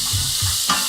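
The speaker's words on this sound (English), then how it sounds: "We are going to lift and stir." Japanese curry being lifted and stirred in a pan, a brief steady sizzling hiss with a couple of soft low scraping strokes.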